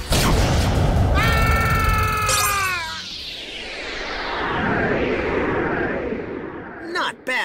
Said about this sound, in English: Light End Dragon attacks!